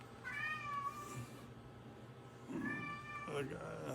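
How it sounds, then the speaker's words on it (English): A house cat meows twice, fairly close, with a short drawn-out call and then another after a pause, over a quiet room hum. "I don't know if the cat knocked something over."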